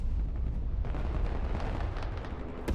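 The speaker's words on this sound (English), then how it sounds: "enemies calling in artillery, it looks like" Enemy artillery barrage in a war video game: a dense, continuous rumbling roar of heavy blasts and bursts that stays loud throughout, with a sharper crack near the end.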